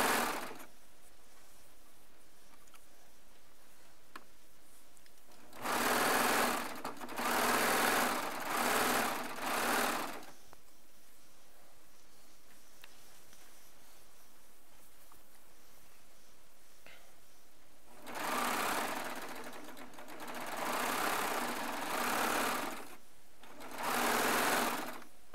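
A serger runs over jelly roll fabric strips for a queen-size quilt top, buzzing in two clusters of short, steady bursts separated by long quiet pauses.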